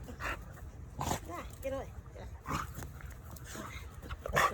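Pet dogs whimper, yip and bark in short bursts close by, with a person talking over them.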